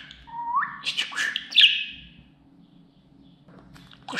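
A pet budgerigar chirps and warbles in a quick run of rising whistles and squawky tweets, loud and close, then falls quiet before another chirp at the end.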